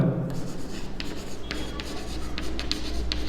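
Pen scratching across paper while working a class 10 math problem on surface area and volume: a series of short, close strokes and rubs at a moderate level over a low background hum, with no speech.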